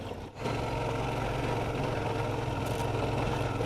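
A 2019 Suzuki V-Strom 650 motorcycle engine pulls steadily up a hill in second gear on a narrow grassy country road, a continuous close chugging drone with wind rush and no talking.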